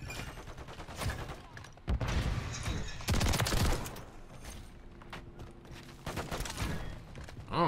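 Gunfire in Call of Duty MW3 multiplayer: bursts of shots and impacts in several separate clusters, some loud and close, others fainter, with brief quieter gaps and a few mechanical clanks between them.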